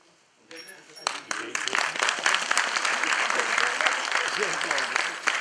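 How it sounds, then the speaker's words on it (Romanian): After a brief quiet moment, a crowd bursts into applause for a children's folk ensemble performance at a Romanian event, sharp individual claps quickly building into sustained, lively clapping with voices mixed in. "Vă rugăm să-i aplaudați pe copiii care vă vor oferi acest spectacol."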